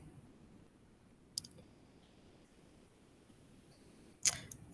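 Two sharp computer mouse clicks, one isolated and a louder one near the end, over a quiet room hiss while approving access in DocHub.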